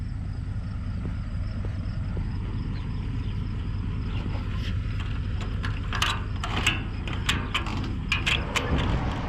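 Ratchet strap cranked tight over a trailer load of equipment, including a grapple bucket, outdoors: a run of quick metallic clicks toward the end over steady low background rumble, fairly close.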